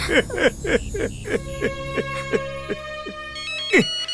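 A phone ringtone plays a bright, repeating melodic tune of quick descending notes, clear and close, with no talking.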